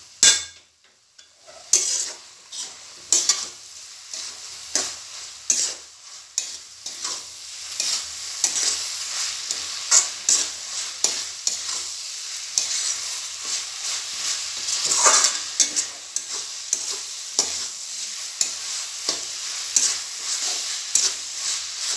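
Chicken and vegetable keema fries with spices, making a continuous close sizzle broken by frequent sharp scrapes and clinks of a spoon against the pan. The sizzle swells toward the middle, with no talking.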